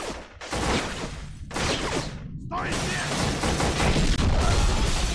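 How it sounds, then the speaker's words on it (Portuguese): Loud, dense blasts and crashing from an explosion in the shooter video game Black, with bursts of gunfire-like noise that fill the whole stretch, broken by brief gaps. "Curti a explosão agora, hein?"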